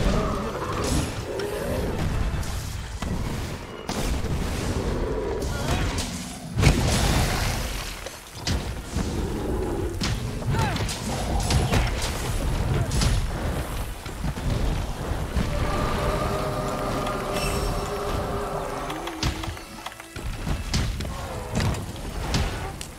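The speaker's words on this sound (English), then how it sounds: "Lightning bolt!" Thunder and rain sounds from lightning strikes in the video game Monster Hunter World, with booming crashes and a steady rain-like wash running throughout, loud and dense, and a sharp strike around the middle.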